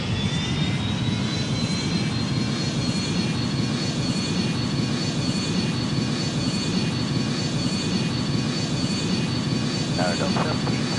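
Airbus A310 jet taking off in the flight game Airline Commander, a steady loud engine roar with a thin high whine held throughout, with faint radio-style voices under it near the end.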